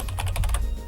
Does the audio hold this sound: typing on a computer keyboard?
yes